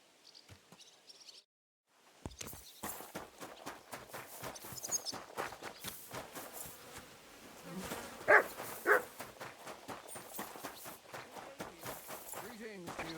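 A dog in the video game Kingdom Come: Deliverance 2 gives two sharp barks midway through a stretch of clopping hooves and footsteps, with game voices present.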